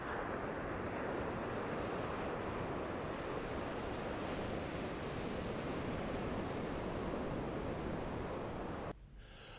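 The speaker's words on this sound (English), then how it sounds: "Here is the glistening Zuma Beach at sunset." Ocean surf rolls onto Zuma Beach in Malibu at sunset, a steady, dense wash of breaking waves with some wind, heard alone and without voices.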